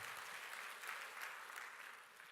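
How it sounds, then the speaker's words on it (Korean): A Korean church congregation breaks into applause during a worship service, a faint, distant patter of many hands clapping steadily with no talk over it. "박수"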